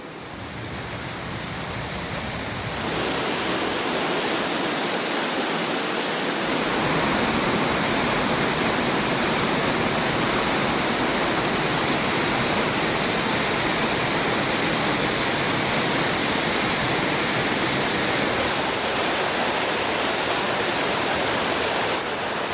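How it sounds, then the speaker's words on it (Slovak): Spring snowmelt water in the Tatra mountain wilderness near the Belá river rushes down valleys and falls over rock walls, a loud, dense, continuous roar that swells after a brief quieter opening and holds steady to the end. "Jarná voda stopiaceho sa snehu sa s hukotom valí údoliami a padá zo skalných práv."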